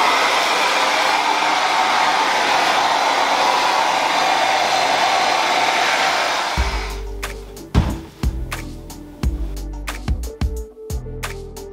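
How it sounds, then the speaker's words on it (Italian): A hair dryer blows with a steady loud whooshing roar for several seconds, then cuts off, followed by intermittent thumps and clatter. "mi scaldo un po' col phon"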